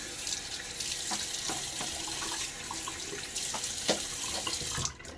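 A safety razor is rinsed under a running bathroom tap, with water splashing steadily into the sink and a few brief clinks and spatters as it passes through the stream, close and continuous.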